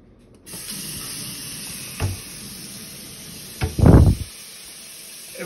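A tap runs into a double kitchen sink with a steady hiss of water, broken by a brief clunk and a louder splashing burst close by.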